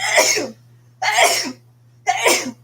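Three sharp sneezes in a row, evenly spaced about a second apart, close and fairly loud over a faint steady hum.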